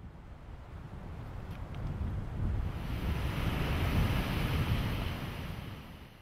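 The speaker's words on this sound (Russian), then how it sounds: "В этом месте побережье испытывает силу постоянно дующих с северо-востока пассатов." Waves wash against a rocky Caribbean shoreline of small cliff-cut bays under constant northeast trade winds, a broad continuous roar of surf and wind buffeting that swells louder midway, with no voices.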